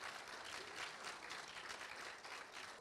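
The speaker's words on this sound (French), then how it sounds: "applaudissez pour ces gens qui ont donné vie à ce film" Audience at a film club screening of "Sango Malo" clapping for the people who brought the film to life, steady dense applause at low level, heard alone.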